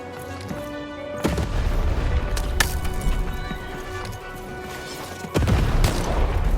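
Cannon blasts in the video game Lost In Random, with several sharp booming shots; loud impacts at the start, around two and a half seconds, and a heavy one near the end, separated by ringing rumble.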